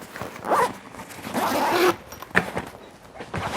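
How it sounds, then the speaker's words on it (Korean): A zipper is pulled shut on a hiking boot carrying case, several rasping zip strokes of varying length close to the microphone with short pauses between them. "이렇게 지퍼를 닫아주면은"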